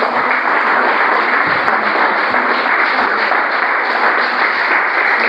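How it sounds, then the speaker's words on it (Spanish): A church congregation applauding during a service, a loud, sustained wash of many hands clapping at once, steady and even throughout without speech. "Dale un aplauso al Rey de Gloria"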